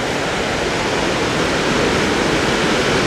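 Dassam Falls near Ranchi roars with a steady, dense rush of falling water at reduced flow, a loud continuous broadband wash close by with no voices.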